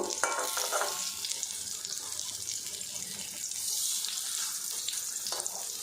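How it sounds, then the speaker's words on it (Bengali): Soft, steady sizzling of patties frying in oil, a close hissing crackle with occasional light bubbling, no voices. "এবার এগুলো আমি ভাজা ভাজা করে নেব"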